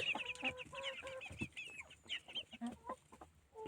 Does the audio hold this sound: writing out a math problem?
no